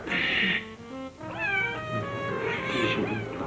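A cat lets out a drawn-out, wavering meow close by, followed by a couple of softer mews.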